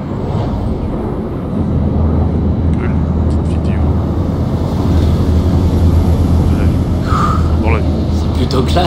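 Inside an airplane cabin in Splinter Cell Blacklist, a loud, steady low engine roar fills the scene while someone talks over it.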